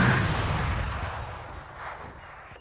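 Gunfire in a Valorant ranked match: one loud, sharp burst up close that fades slowly into a rumbling tail.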